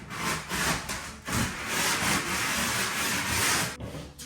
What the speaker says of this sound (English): I'm just going to be using the sanding block and literally going like this